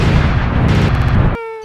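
A cartoon-style explosion sound effect plays loud and close, a long rumbling blast with crackle that cuts off abruptly into a short ringing tone.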